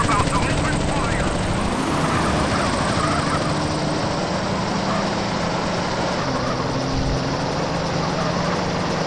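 A police helicopter in GTA San Andreas hovers overhead with a loud, constant rotor and engine drone, while voices talk over it throughout.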